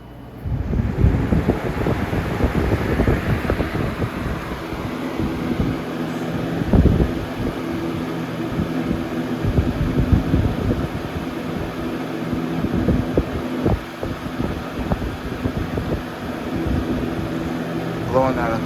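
A 2002-03 Lasko Weather-Shield box fan, model 3720, runs on high with a steady loud rushing whoosh of air and a low motor hum, while a person talks over it.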